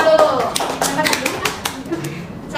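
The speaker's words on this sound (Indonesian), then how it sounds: "Tepuk tangan dulu." Fourth-grade students clap their hands in a classroom, a short burst of quick, close claps mixed with children's voices.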